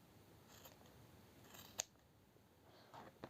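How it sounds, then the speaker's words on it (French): Scissors snipping excess yarn from a crochet hat, a few soft quiet cuts with one sharper snip in the middle, close and faint in a quiet room. "je vais déjà couper ce qui dépasse"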